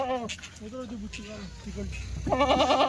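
Kathewadi goats on a farm bleat in several quavering calls, near and loud, with someone talking over and between them.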